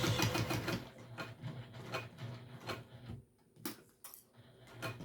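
Sewing machine back stitching a seam on a backpack, a quick run of rapid mechanical stitching bursts that pause and restart, fairly quiet and close.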